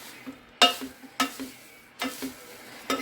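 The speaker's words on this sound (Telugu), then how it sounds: "కలుపుతా మంచిగా" Food stirred and mixed in a pan while it fries, with four distinct scraping sweeps over a soft steady sizzle, close and alone without talk.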